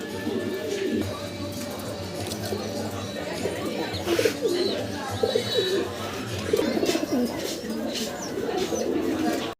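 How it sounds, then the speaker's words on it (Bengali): Fancy pigeons at a pigeon farm coo in repeated low, rolling phrases throughout, fairly close, over a constant background hum with someone talking faintly. "আজিম ভাইয়ের খুব চমৎকার কিছু ফেন্সি কবুতর আছে"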